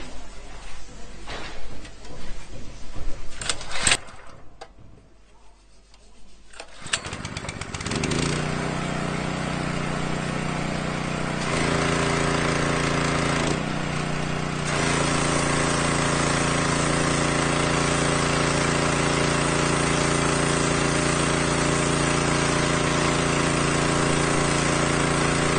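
A small engine sputters and catches after the choke was left on, then settles into a steady, loud, continuous drone that runs alone to the end.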